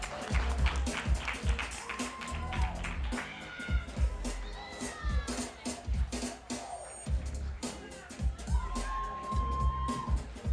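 An audience at a farmer conference claps in a steady, rhythmic beat, fairly close and lively, with some cheering, a voice calling out, and tonal sounds over the top.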